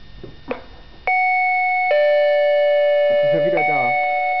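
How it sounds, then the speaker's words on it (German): An electronic doorbell rings loudly and close, sustained two-tone chimes held for several seconds, with brief talking before it and voices over the end. "Klingel noch mal."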